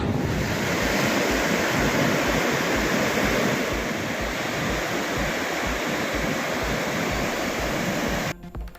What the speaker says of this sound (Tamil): தாமிரபரணி ஆற்றில் கரைபுரண்டு ஓடும் வெள்ளம்